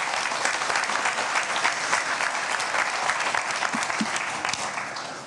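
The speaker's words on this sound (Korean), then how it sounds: "여러분 모두와 함께 박수를 좀 부탁을 드리겠습니다" Audience applause at the 2019 Jeju Forum event on the Jeju 4.3 incident: dense, steady clapping from a large seated crowd that holds at full strength and then eases slightly at the end.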